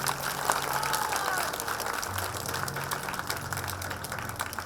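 An audience at a Hindu spiritual discourse breaks into loud, sustained clapping, a dense crackling wash of many hands with a low steady hum underneath.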